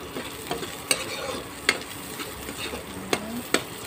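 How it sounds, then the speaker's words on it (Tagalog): Onions sautéing in a pan for Filipino chicken stew, a soft steady sizzle with periodic scraping stirs and a few sharp clinks of a utensil against the pan, close and without voices. "sarutan natin ang sibuyas"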